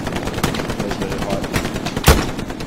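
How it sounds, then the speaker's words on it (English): Rapid gunfire crackles through a mobile war video game firefight, dense bursts running throughout with one sharp louder blast near the end, a voice faintly mixed underneath. "See, I shot that guy to your left"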